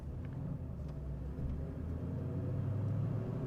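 A 1970 Chevrolet Chevelle wagon rolls along in first gear, its engine a steady low rumble with road noise, close and continuous without any talking.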